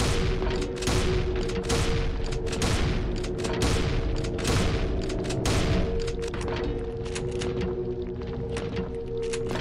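A shotgun fires over and over in the video game The Polaroid Killer, a long run of loud, booming blasts coming in quick succession with a dense, reverberant tail.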